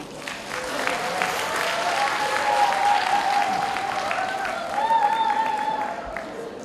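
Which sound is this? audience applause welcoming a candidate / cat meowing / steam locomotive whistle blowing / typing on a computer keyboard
audience applause welcoming a candidate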